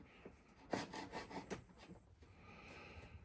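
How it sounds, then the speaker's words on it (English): A sharp hand scraper dragged across a plywood surface, a series of short rasping scrapes in quick strokes, close but fairly quiet, fading to faint scratching. "The scraper's really nice. I mean, it's sharp. It's a piece of plywood, but I mean, it's scraping up the plywood."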